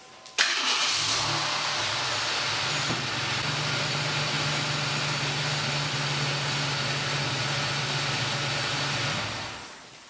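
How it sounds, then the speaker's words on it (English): A car engine cranks and catches right after an oil change, then settles into a steady, even idle that runs close and loud for about nine seconds before it shuts off. "On your first start, you're just going to want to fire it up and then let it run for about 20 seconds"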